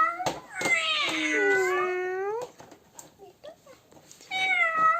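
A cat meows several times in quick succession, with rising and falling wavering calls, a pause, then another meow near the end.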